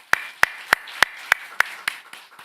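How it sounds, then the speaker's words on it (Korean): Congregation at a Methodist church service clapping for the choir: about eight sharp, evenly spaced claps, steady and close, fading slightly at the end with no talk. "우리 찬양대에게는 격려의 마음을 담아서 크게 박수 한번 할까요?"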